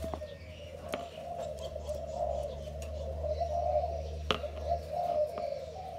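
A pair of Malaysian doves kept for breeding coo softly and steadily in a continuous low drone, with occasional sharp clicks and ticks breaking in close by.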